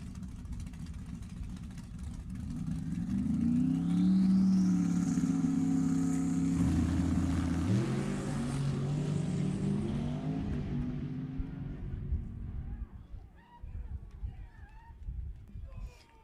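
A 1968 Camaro and a 1963 Corvette launch side by side at a drag strip, their engines rising in a loud, swelling roar that peaks and then fades into the distance while a commentator talks over it.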